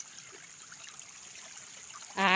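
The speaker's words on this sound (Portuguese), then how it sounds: "Ó, agora vai cair bastante água aqui, ó." Water trickling from a pipe spout on a farm in rural Goiás, Brazil, a faint steady stream with a brief louder splash right at the end.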